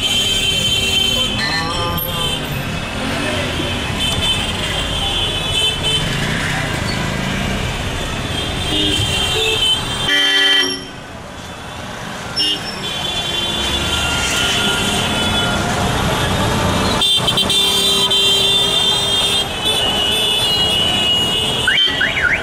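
Loud, busy street traffic in India, with vehicle engines, horn blasts and a rumbling, clattering wash of noise that stays dense throughout except for one brief dip, plus some voices mixed in.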